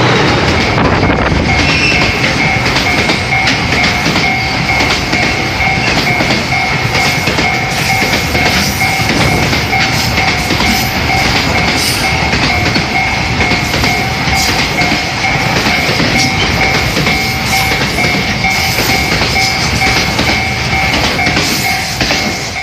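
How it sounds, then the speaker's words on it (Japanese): A Red Bear freight locomotive hauling a freight train rumbles steadily through Koboro Station on Hokkaido's Muroran Main Line at close range, wheels clattering over the rails with a continuous roar and a faint high whine throughout. "北海道を走る貨物列車レッドベアです。"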